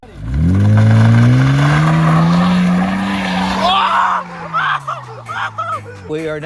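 A Mercedes C300 revs hard and spins its tires with traction control switched off, a loud, close engine roar and tire squeal that fade into choppy bursts as people talk over it.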